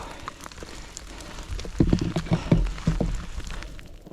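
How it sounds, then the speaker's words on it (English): Steady rain patters on a surface in cloud on a mountain trail, a soft continuous hiss dotted with scattered drops, swelling a little louder partway through. "we're in a cloud and it's raining"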